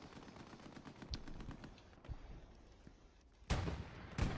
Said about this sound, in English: Artillery strikes coming in from red